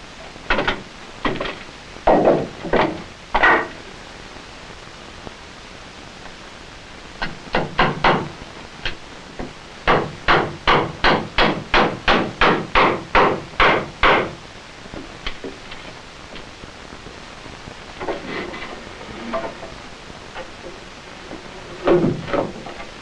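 Wooden bracing is hammered in between floor joists in bursts of sharp, loud, close blows, including one long fast run of evenly spaced strikes, with pauses between the bursts.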